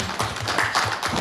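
Applause at a city council meeting in Texas: a brief, steady patter of many hands clapping together in a meeting room, with no voices over it.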